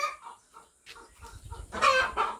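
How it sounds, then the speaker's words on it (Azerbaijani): Hens and a black rooster cluck and squawk nearby in short irregular bursts, rising to a louder flurry of squawks near the end, with no voices. "toyuqların səs-küyü biraz məni yorur, fikirlərimi dağıdır"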